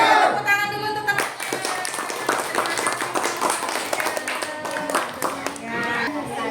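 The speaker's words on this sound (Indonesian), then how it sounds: "Tepuk tangan dulu untuk teman." Schoolchildren clapping for classmates in a primary school class, a burst of many hands applauding together with sharp irregular claps, while voices talk and call out over and among the clapping throughout.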